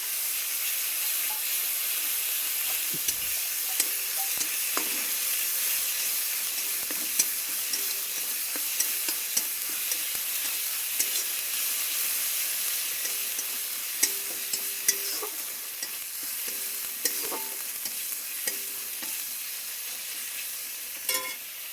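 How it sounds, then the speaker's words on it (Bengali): Spice masala fries and gets stirred in a pan: a constant close hiss and sizzle runs throughout, with faint scraping stirs and a few small clinks, no talking. "মশলাটাকে না ভালো করে কষতে হবে, কারণ মশলাটাই কিন্তু মেন।"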